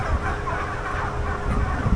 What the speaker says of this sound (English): site full of turkeys